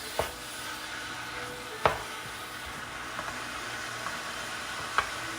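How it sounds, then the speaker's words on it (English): Ground beef browns in a pan for Cuban picadillo, giving a faint, steady low sizzle broken by a few sharp spatula taps and scrapes. "little by little we're just going to be browning this meat"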